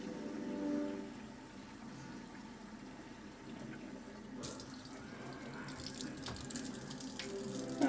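Water runs steadily from a tap, a faint continuous splashing flow that grows slightly brighter partway through.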